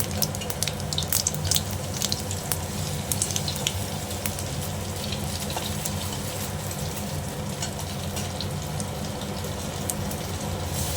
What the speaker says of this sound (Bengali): এবার আমি সাদা জিরে ফোড়ন দিলাম, তেজপাতা, আর একটু হিং দিচ্ছি